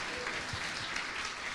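A church congregation claps steadily in a dense, continuous patter of applause that fills the room without pause.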